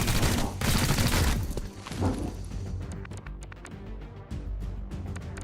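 A burst of dense gunfire in the video game XCOM Chimera Squad, loud rattling shots for the first couple of seconds, followed by scattered clicks and impacts.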